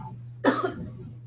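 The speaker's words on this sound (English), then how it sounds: "excuse me for a moment, I'm going to cough." A single loud cough bursts out and breaks into a short rough trail, heard close and alone against a steady low hum.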